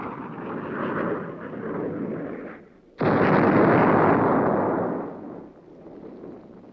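Napalm tank explosions from archival Air Force operational film roar as loud, sustained blasts, a long rumbling burst, a brief drop near the three-second mark, then a second, heavier roar that slowly fades.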